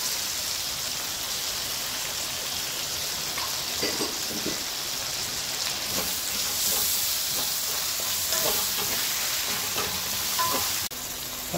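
Chicken frying in a pan with tomato and onion, a steady loud sizzle with irregular crackles and stirring clatter, fairly close, without talking.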